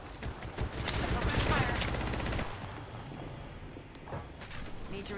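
Rapid automatic gunfire bursts in an Apex Legends match on the World's Edge map, loud and close with dense repeated shots, under game voice callouts and effects.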